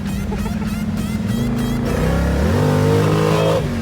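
A 1970 Chevelle SS engine revving hard and climbing through the gears, a loud close roar whose pitch rises, drops at a shift, then climbs again with sustained intensity.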